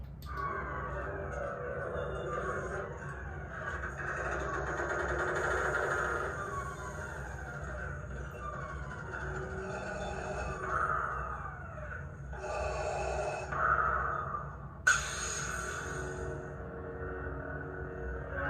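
A Proffie sound board lightsaber runs a slow ignition with a pre-on effect, building as a long rising electronic hum and sweep with whooshing layers, then a sharp bright burst near the end over a steady low drone.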